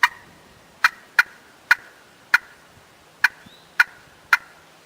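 Sharp, loud yelps from a turkey call mimicking an excited hen cutting, eight abrupt notes in an irregular, quick rhythm, close by with silence between.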